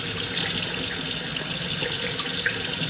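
A bathroom tap runs steadily into a sink during a skincare routine as a face is rinsed, a constant close-up rush of water with faint splashes and no talking.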